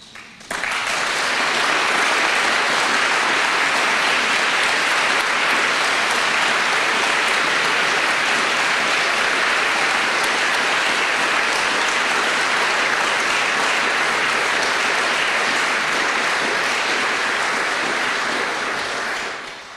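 Loud, sustained applause from a large audience at a political speech, steady for nearly twenty seconds before tapering off at the end.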